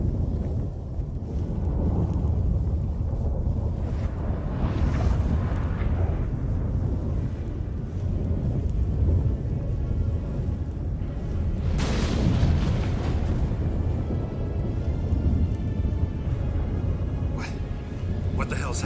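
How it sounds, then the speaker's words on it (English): A thunderstorm in The Witcher 3 game: deep rumbling booms and steady roaring wind and rain, with a loud thunder crack near the middle and another swell near the end, under a continuous low drone. "That a storm?"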